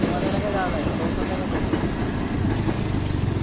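A local train runs along the rails in the rain, a loud steady rumble with rhythmic clickety-clack of wheels over joints, heard close up from on board or beside the track.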